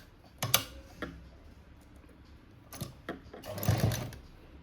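A sewing machine stitches a potli button onto a boat-neck blouse, short bursts of needle chatter with pauses between, close and fairly clear, no talking.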